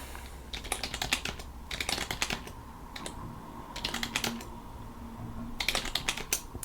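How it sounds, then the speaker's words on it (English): Rapid typing on a computer keyboard, close and steady, with clustered bursts of keystrokes broken by short pauses and no voices. "And then we start typing."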